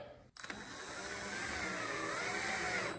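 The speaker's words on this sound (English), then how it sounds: "So we're gonna screw this in. We're gonna use the small screws for that." Small screws are driven into a Copper Creek CK2020BC Colonial cabinet knob. After a brief click, a steady close whir runs for about two and a half seconds, with no voices.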